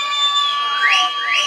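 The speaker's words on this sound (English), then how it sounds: "Let me hear them whistles tonight." Crowd at an outdoor political campaign rally blowing whistles, several shrill tones held and overlapping, some sliding up and down in pitch, loud and continuous.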